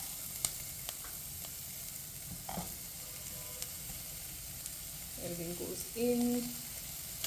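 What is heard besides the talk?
carrots sautéing in pan for soup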